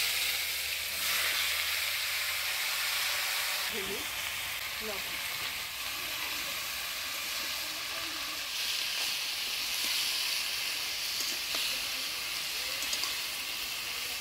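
Chopped vegetables for a mustard-greens chorchori hit hot oil tempered with black cumin in a Bengali village kitchen, giving a steady, close, broadband sizzle that holds loud throughout with small stirring clatters.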